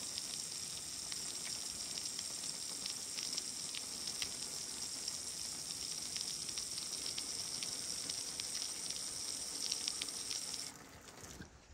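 Water from a hose pours and splashes over the back of a Peterbilt truck cab, a steady hissing rush heard from inside that cuts off near the end.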